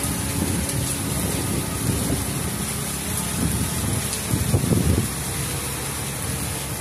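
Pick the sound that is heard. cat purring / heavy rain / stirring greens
heavy rain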